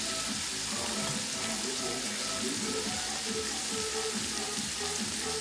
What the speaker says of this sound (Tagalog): Ayan, lagay na natin itong ating cabbage. Ayan, repolyo. Igigisa natin siya.